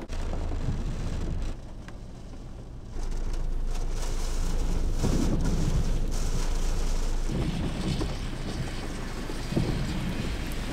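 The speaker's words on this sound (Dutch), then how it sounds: "Dit storm." A storm at Simonstown, with strong, steady wind roaring and rain beating down, loud and continuous with low rumbling gusts and no talking.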